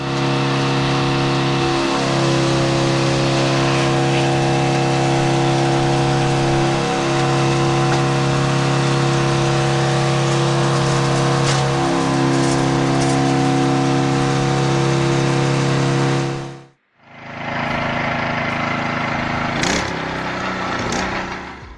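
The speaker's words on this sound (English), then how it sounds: "This inertia-driven firewood splitter, designed with a gear rack ratio of the square root of 10, delivers power and precision like never before" An inertia-driven firewood splitter with a gear rack drive runs as a loud, steady engine drone with a strong hum. It cuts out briefly and then starts up again, with faint knocks of wood being processed.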